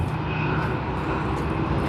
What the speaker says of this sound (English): we do see Air New Zealand 1253. just having started its taxi